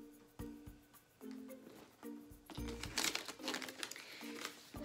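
A sheet of paper crinkles and rustles as it is pulled from a purse, with soft scattered crackles building into a louder, busier crumple near the end.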